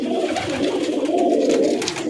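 Tournament racing pigeons coo close by in soft, throaty, continuous rolling calls, with no talking.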